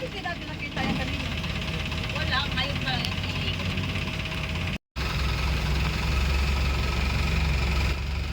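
A tour boat engine drones steadily under occasional talk in Bangkok, with a brief cut to silence midway before the low engine rumble resumes, louder and deeper.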